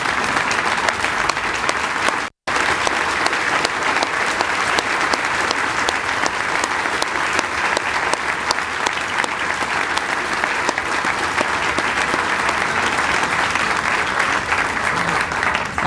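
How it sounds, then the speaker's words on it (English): Loud, sustained audience applause for participants at the 2016 YOY speeches event, a thick, continuous wash of clapping that runs unbroken apart from one brief cut near the start. "Help me give these participants a round of applause one more time"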